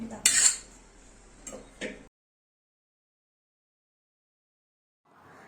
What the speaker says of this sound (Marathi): काबुली चणे पूर्ण त्याच्यात टाकून आपल्याला पूर्ण मिक्स करून घ्यायचं आहे।